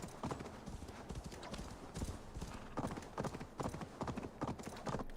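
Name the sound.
horse hooves clip-clop while riding in Assassin's Creed Valhalla video game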